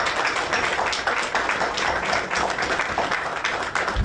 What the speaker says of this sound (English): so we can clap for you